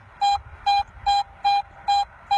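A metal detector sounds a buried target in a farm field with a steady train of six evenly spaced mid-pitched beeps, clear and close against faint background noise.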